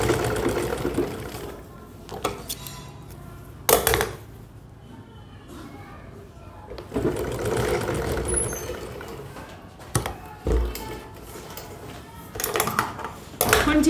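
A sewing machine stitches suit fabric in bursts of running, starting and stopping between pauses, with someone talking over and between the stitching.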